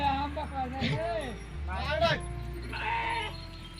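Goat bleating in several wavering calls, fairly close, with a steady low hum and some background noise between them.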